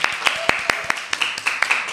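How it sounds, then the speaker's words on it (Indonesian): A few people in a podcast studio clap, their sharp, separate handclaps coming in a quick, uneven run, close and fairly loud over a faint background. "Tepuk tangan lagi."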